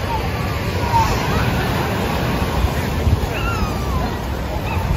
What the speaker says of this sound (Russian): Ох, какие волны, вы видите?